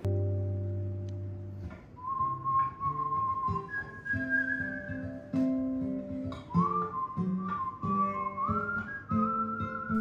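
A person whistles a bright, wandering melody alone, the tune sliding between held notes and quick runs at a steady, fairly close volume.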